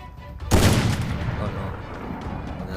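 Video game gunfire cracks out suddenly as one loud, close burst, then trails into a rolling rumble that fades slowly over the next couple of seconds.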